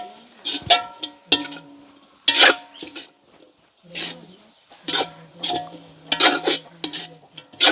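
Food is mixed in a cooking pot with a spoon, making irregular clanks and scrapes against the metal in uneven bursts with short pauses, close by.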